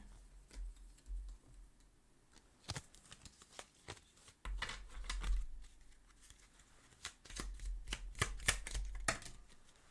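Tarot cards shuffled and drawn from a deck, giving soft papery riffles and flicks with a few sharper slaps, bursts clustered in irregular spells close by, no talking.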